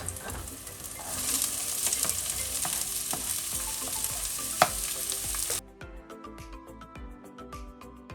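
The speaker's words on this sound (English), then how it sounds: "I will fry the onion and the green pepper for about 30 seconds." Chopped onion and green pepper fry in a pan with a bright, steady sizzle and occasional stirring clicks. The sizzle drops off sharply partway through, leaving quieter utensil scrapes and taps.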